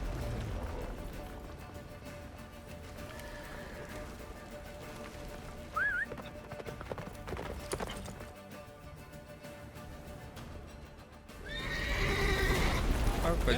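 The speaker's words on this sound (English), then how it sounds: "Faster, Roach. Don't stop." A horse in the video game Witcher 3 gallops with steady clip-clopping hooves under background music and ambience, then gives a loud, close whinny near the end.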